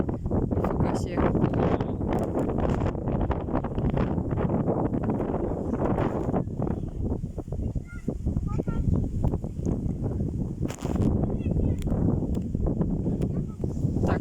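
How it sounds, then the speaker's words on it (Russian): Strong storm wind gusting across an open field at about 23 m/s, a continuous loud rushing roar buffeting the microphone throughout, with a voice talking over it. "ветер начинает набирать мощь"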